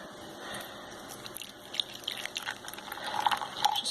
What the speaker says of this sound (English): you just pour a little bit in there